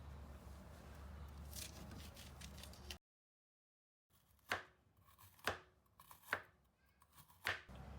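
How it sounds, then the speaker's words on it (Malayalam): A knife slices bitter gourd into thin rounds, giving about five crisp, separate chops on a board after a pause, close and fairly loud. "പാവയ്ക്ക കട്ട് ചെയ്തെടുത്തിട്ടുണ്ട്."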